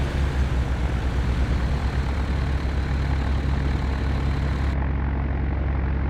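A Douglas DC-3's piston engines idle in Flight Simulator X, a steady loud low throbbing drone with a fine propeller beat, continuous and unchanging throughout.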